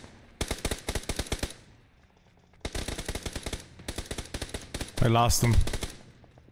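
Video game gunfire rattles in two long bursts of rapid machine-gun shots, loud and close, separated by a brief lull, with a short spoken line and a sharp louder burst near the end.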